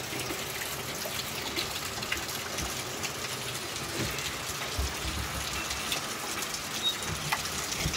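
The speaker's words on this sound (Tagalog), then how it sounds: "Pumatak na naman yung ulan." Steady rain falls and patters on a surface, a continuous hiss with no voices.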